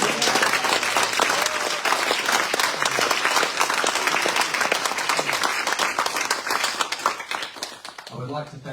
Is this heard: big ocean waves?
no